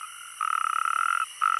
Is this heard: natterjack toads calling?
yes